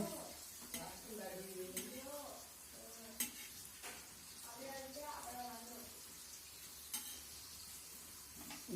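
Potato pieces sizzle and crackle steadily in a frying pan, with occasional sharp ticks from stirring or turning, while a voice talks over the frying at intervals.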